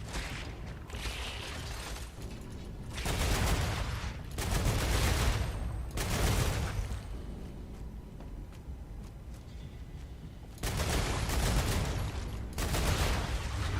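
Bursts of automatic gunfire from the StarRupture video game, several long rattling volleys separated by short pauses with quieter mechanical clatter between them, loud and up close.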